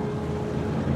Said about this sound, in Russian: охотники на моторной лодке